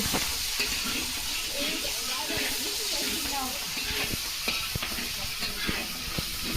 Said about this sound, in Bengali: চাপড়া রান্না করছে।